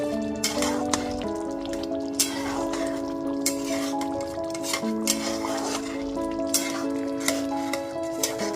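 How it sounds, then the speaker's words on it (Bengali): A spoon stirs paneer gravy with shahi garam masala in a pan, giving repeated light scraping clicks and a soft sizzle in a steady rhythm, set beneath sustained background music. "গরম মশলা গুঁড়োটা খুব ভালো মতো একটু মিশিয়ে নিচ্ছি"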